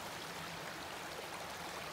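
Watendlath Beck in the Lake District flows in a steady, soft rushing wash of water. It is fairly faint and even throughout, with no voices over it.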